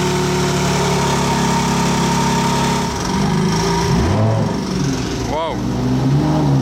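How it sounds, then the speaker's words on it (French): A BMW M4 with a loud aftermarket exhaust idles close by in a deep, steady rumble, with the pitch wavering and blips of revving partway through, while people talk nearby. "Il y a la M4 qui vient de démarrer. L'échappement fait pas mal de bruit je trouve."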